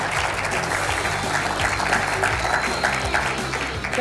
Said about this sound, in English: How about a big round of applause for Jared